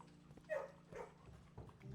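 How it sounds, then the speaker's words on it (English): Puppy in the video game Blue Prince being petted, giving a brief, close yip or whimper in the middle of a short burst, over a low steady game music hum. "We gotta pet the puppy."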